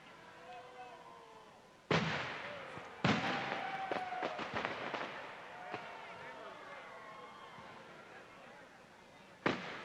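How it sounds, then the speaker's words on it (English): Distant winter fireworks: booms and crackling bursts roll out over a steady rumble, with a few sharper bangs standing out. "And the fireworks are going in the background. You can hear them."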